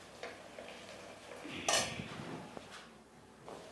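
Dry spices go into small containers in a village kitchen, giving a few faint, scattered clinks and taps of lids and tins, with one brighter rattle midway.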